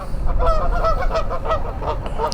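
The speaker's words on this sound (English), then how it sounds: "Geese over there having some sort of fight." Geese fighting, honking in a loud, continuous, overlapping chorus, harsh and agitated, with wind noise rumbling underneath.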